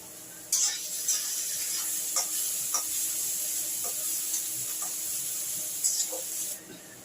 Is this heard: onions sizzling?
yes